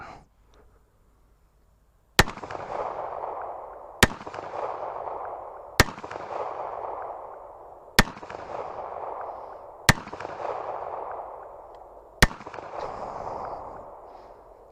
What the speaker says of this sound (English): All right, shooting the infamous high point.